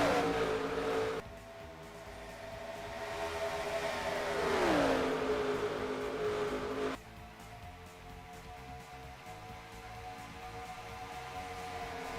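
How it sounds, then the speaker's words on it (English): Race cars at Atlanta Motor Speedway during an ARCA 100-lap race: a steady engine drone, then one car roars past close by with a clear rising and falling pitch sweep before the noise settles back to a distant hum. "Great racing at the front of the field here."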